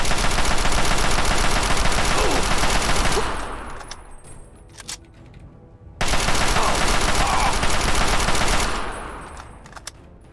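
Gunfire in the video game Fallout 3, two long, loud bursts of continuous rapid automatic fire separated by a short lull with a few faint sounds, mostly without talk.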